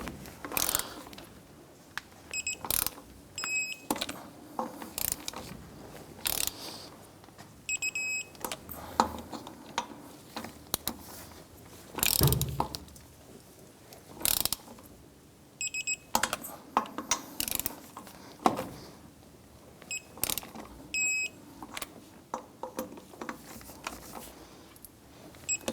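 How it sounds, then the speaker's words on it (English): A torque wrench ratchets lug nuts down to 95 foot-pounds on a 1994-2004 Chevrolet S10 rear wheel, giving repeated close clicking strokes in irregular bursts with faint high beeps between some of them. "Let's go ahead and torque down our lug nuts to 95 foot-pounds."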